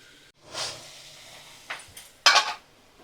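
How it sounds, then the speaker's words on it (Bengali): A lid lifted off a cooking pot of pumpkin and Malabar spinach: a short metallic scrape and clatter, then a few brief knocks and a final louder rattling clink, close by, with no voices. "দেখো আমি ঢাকাটা খুলে নিলাম"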